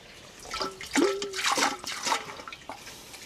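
Water is poured over tomatoes packed in a container for fermenting, a close splashing and trickling sound that rises and falls in short gushes, with no one talking.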